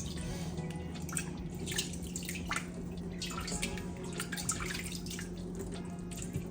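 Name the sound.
cool water added to a bowl of spinach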